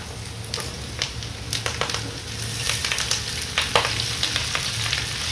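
Vegetables tossed into a pan of frying pancit bihon hiss and sizzle continuously, with sharp intermittent clatters from stirring utensils close by and no one speaking.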